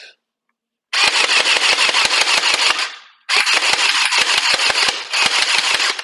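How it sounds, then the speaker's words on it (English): HERICAPUL M416 gel ball blaster firing on full auto, two long bursts of rapid, evenly spaced shots over a buzzing motor, loud and close, with a short pause between the bursts. "Now we're going to start shooting."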